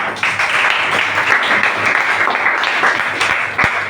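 A classroom audience applauds a student group's presentation, dense steady clapping from many hands, fairly loud and close, with a few sharper individual claps near the end.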